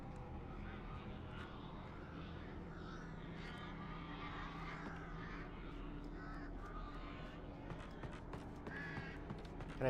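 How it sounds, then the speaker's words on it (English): Crows caw repeatedly at a distance in an Alan Wake game scene, harsh calls recurring over a steady low droning background. "More birds? More birds!"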